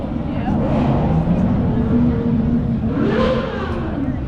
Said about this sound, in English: That looks like a Lamborghini, Jake